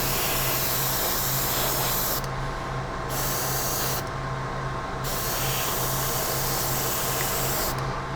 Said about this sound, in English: You can spray it on heavier, kind of the way I'm doing it.